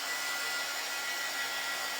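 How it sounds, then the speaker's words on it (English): A hair dryer blows steadily and loudly at close range onto a paper craft heart, a continuous broadband whoosh with no talking. "now let's just hit it with the dryer so that I can put a little bit of distressing"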